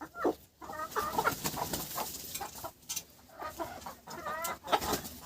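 Desi village rooster and hens clucking in short repeated bursts, close and fairly loud, with soft scratchy farmyard noise between calls and no talking.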